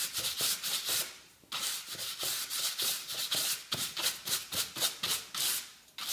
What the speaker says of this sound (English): Just bear in mind when you're taking it over the sandpaper like this that you don't concentrate in one area